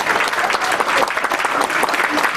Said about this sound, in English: we should give Amir a round of applause